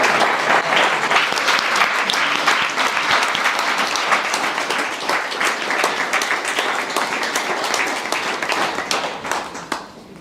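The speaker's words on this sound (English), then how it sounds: "Please give another round of applause to Ms. Sonia Millar." Sustained, dense applause from an audience at a university African American Read-In event, steady and full throughout before tapering off near the end.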